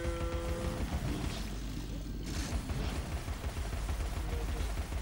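Gunfire aimed at a crab enemy in the video game Alice: Madness Returns, a dense run of booming shots and impacts that carries on steadily throughout, loud and with no talking over it.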